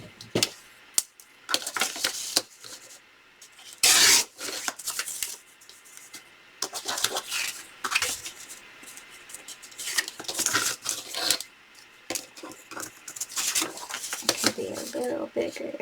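Paper for a journal card craft is cut, giving sharp, intermittent snips and rustles near at hand, scattered in uneven bursts with quiet gaps between.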